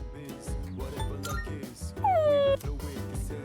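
A puppy in the video game Persona 3 Reload gives a brief, high, falling whimper over steady background game music.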